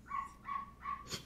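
A dog's bark played from a Google smart speaker, three evenly spaced barks in a quick rhythm followed by a short sharp click, fairly loud and close with no talk.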